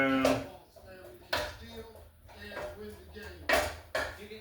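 Jambalaya vegetables stirred in a pot, a spoon scraping and clanking against the metal in repeated strokes, close and moderately loud, with speech in between.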